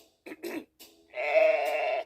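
An animated sheep lets out a short bleat after a couple of brief vocal sounds, the wavering cry close and clear against a quiet background.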